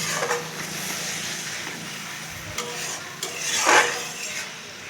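Spices with bitter gourd and potato being stirred in a pan, low sizzle under scraping and clinks of a spoon against the metal, with a louder scrape near the end.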